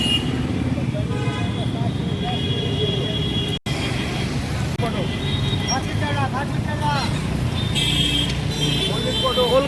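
Busy night street traffic on Phears Lane in Kolkata, heading toward Kalibabu market: a steady dense roar of engines with scattered horn toots, under ongoing nearby chatter.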